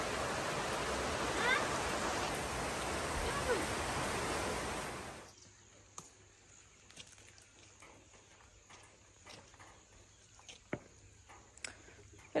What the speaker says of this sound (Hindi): अब बारिश स्टार्ट हो गई है इस प्लेस में